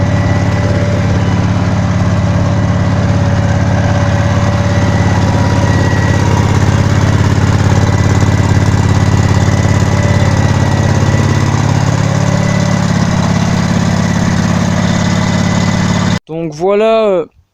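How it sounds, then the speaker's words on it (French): A riding lawn mower tractor engine runs at low speed, a loud, steady drone close by that holds for most of the time before cutting to a brief, different burst of noise at the very end. "Donc voilà, j'ai démarré le moteur."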